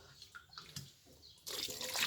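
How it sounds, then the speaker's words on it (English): Hot water is poured over cut fish pieces while preparing okra pepper soup: faint drips and trickles first, then a loud, steady pouring rush for the last half-second or so. "as you add the hot water, you will see the skin get sticky"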